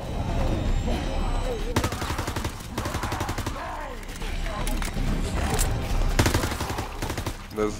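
Rapid automatic gunfire and single shots from Call of Duty: WWII zombies mode, loud, dense bursts mixed with game sound effects, while a voice talks over the action.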